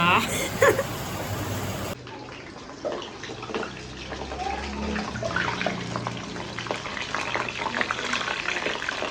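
Water splashing and running steadily nearby while people talk over it throughout.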